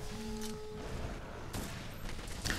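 A Taroth Assault Support heavy bowgun (Kulve) fires pierce ammo in Monster Hunter World. A rapid burst of booming shots and impacts plays against a faint sustained game tone.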